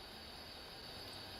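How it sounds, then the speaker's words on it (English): Train hauling planks in the Transport Fever 2 game, a steady rolling rumble with a faint metallic wheel hiss running the whole time, moderately distant and without voices. "That's the train bringing planks"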